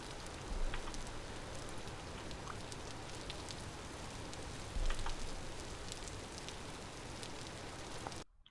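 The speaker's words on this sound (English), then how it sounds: "Can't believe it's raining in that world now." Continuous rain falling in the survival game Vintage Story, a constant patter and hiss with scattered drop ticks that holds at one level and then cuts off abruptly at the end.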